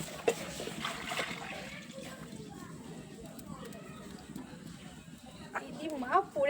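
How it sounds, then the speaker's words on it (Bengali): Fresh date palm sap pours into a wok set on a clay stove, a soft, close splashing trickle with faint voices in the background. "তো এবার আমি খেজুরের রসটাকে দিয়ে দেব।"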